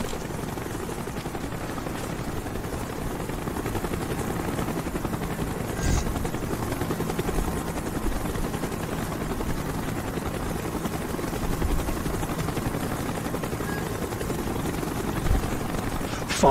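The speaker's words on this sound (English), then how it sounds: "Chopper's inbound. Move it." Helicopter in the Call of Duty Black Ops video game flying in, a steady low rotor drone that holds at an even, fairly loud level throughout with no talk over it.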